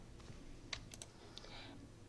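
Quick typing on a computer keyboard to add a caption to a picture, a few faint scattered key clicks over a low room hum.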